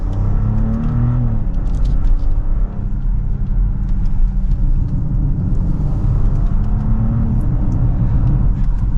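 A 2023 BMW X7 xDrive40i pulls away from second gear, its engine giving a steady, deep rumble with a rising whir held at an even level, close by and with no one talking.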